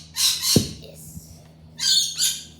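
Pet bird squawking in a home during a morning routine, two bursts of loud, close, harsh calls separated by a quiet gap with a faint thump and low household hum between.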